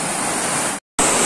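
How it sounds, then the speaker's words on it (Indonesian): Steady roaring rush of a mountain waterfall, loud and close, a continuous broadband wash broken by a brief dropout before resuming. "ini kita sudah hampir sampai di air terjun nomor 2 dan 3"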